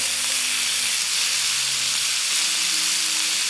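Steak searing in a pan with garlic butter sauce, a surf-and-turf dish, gives a steady, close, dense sizzle and hiss that holds evenly without a break.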